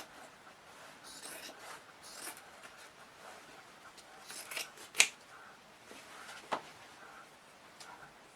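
Scissors cut through denim fabric from old jeans being made into a tote bag, quiet crunchy snips in an uneven rhythm with a couple of sharper clicks, close and soft, with faint whispery background.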